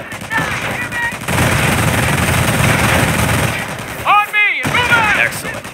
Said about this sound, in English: Your squad is taking enfilade fire from that MG.